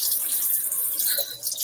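A kitchen faucet runs in a steady, soft hiss of flowing water for a brief moment, with no talking.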